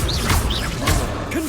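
Confringo fire spell in Hogwarts Legacy: a quick burst of crashing, whooshing blasts, several impacts in a second and a half, loud and close.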